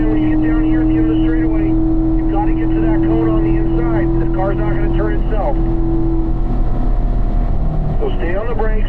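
A Corvette runs on a performance driving school track, its engine holding a steady, loud drone with wind buffeting. Someone talks over it almost continuously.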